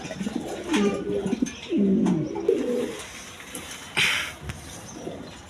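Pigeons coo close by in a Bangladeshi pigeon sale, including a Magpie male, giving several soft throaty rolling calls over about five seconds with faint background noise.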